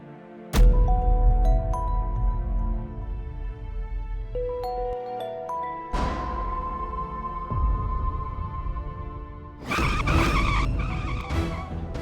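A car swerving on a faulty tire, with sharp tire squeals and skidding bursts that repeat several times over a few seconds, loud and close, no talk.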